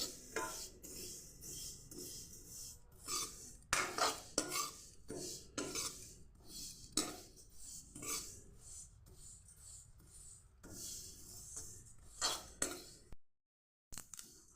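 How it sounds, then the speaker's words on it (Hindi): Fennel seeds dry-roasting in a pan for stuffed red chilli pickle, stirred with a metal spoon that scrapes and clinks in quick, irregular strokes, close and fairly quiet. "इसके बाद मैं सौंफ को भूनने जा रही हूँ। सौंफ भी जीरे की तरह हल्का हल्का भुना जाएगा।"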